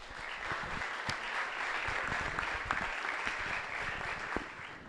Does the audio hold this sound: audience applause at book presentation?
yes